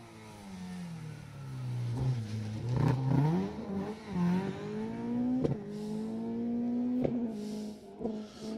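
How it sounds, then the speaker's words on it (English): A Ford Escort rally car on an asphalt stage revs hard as it approaches and passes, its engine note rising and falling through sharp gear changes before fading. "Another Escort now, Ross Busby and Sam Collis. Listen to the sound, I'll shut up for a few seconds"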